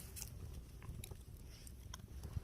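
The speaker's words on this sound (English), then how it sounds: "Oh, it's chewing on plastic." A puppy at Governor Dodge State Park chews on a piece of plastic outdoors, a faint run of irregular crunching bites and clicks close by, with no talking.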